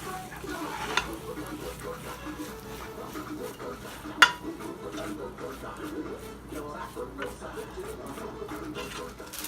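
Jollof rice with corned beef is stirred in a pot: a steady scraping, churning rustle with a single sharp metallic clink midway, set against a faint background of voices.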